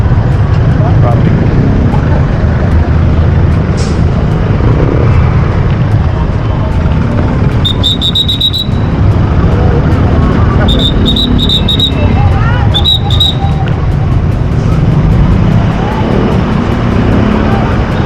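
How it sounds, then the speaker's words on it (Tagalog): Road traffic passing during an outdoor bike ride on the Taktak–Tikling loop, a loud continuous roar of engines and wind noise, with brief high beeping or chirping bursts partway through. "Traffic."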